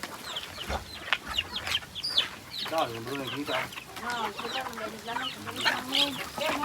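Chickens clucking and squawking close by, mixed with people talking over them and other farmyard bird calls.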